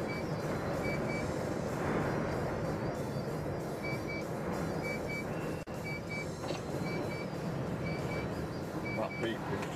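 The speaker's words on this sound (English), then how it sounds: "That beep is just because I took my seatbelt off." A faint seatbelt warning beep repeats in short pairs over a steady engine drone inside a truck cab.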